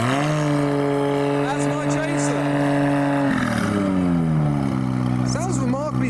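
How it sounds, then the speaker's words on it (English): A Toyota 1JZ engine fitted in a British sports car cranks and fires up, settling into a loud steady idle with harmonic drone and a pitch shift midway, while someone speaks briefly over it. "We're about to hear the 1J startup, just as evidence that this is the same engine"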